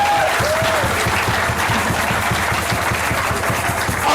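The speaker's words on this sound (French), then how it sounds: "Acclamez pendant que je donne" A church congregation at a prophetic worship service claps together in a steady, sustained round of applause, dense and continuous, with a faint voice briefly audible over it.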